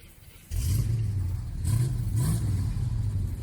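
Mid-pitched engine hum of a tractor tedding hay, starting abruptly and running steadily with slight rises in revs and faint clatter, fairly close and alone.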